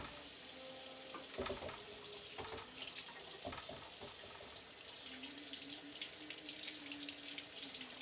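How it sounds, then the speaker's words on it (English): Water runs steadily from a kitchen tap while pork chops are rinsed under it, a continuous splashing hiss with occasional handling clunks. "I'm going to rinse the pork chops off really good and put them in a pan"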